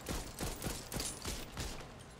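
Rapid bursts of gunfire in the zombie shooter Back 4 Blood, a string of sharp repeated shots at a steady quick rhythm, fairly loud and continuous through the short stretch.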